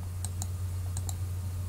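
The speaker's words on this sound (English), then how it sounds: "Sorry guys if you hear the clicking noise, it's annoying." Computer mouse clicks during a Minecraft-style game session: two quick pairs of sharp, close clicks over a constant low electrical hum.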